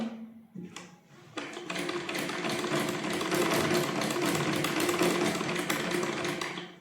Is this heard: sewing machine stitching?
yes